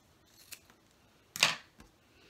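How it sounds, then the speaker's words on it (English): Scissors trimming a small piece off recycled denim fabric while making an apron: one short, crisp snip close by, with a couple of faint clicks before and after in an otherwise quiet room. "I'm just going to trim this little bit off here"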